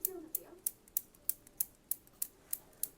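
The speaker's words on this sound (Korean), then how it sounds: "이 빗살에다가 가위를 대고 이 연습을 많이 하셔야 돼요." Hair-cutting scissors snip against the teeth of a comb, practised on a short-haired wig for a basic men's cut. About ten crisp, quiet snips come at a steady, even rhythm, with no talking.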